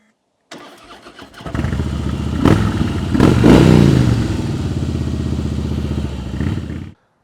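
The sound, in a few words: Harley-Davidson motorcycle engine revving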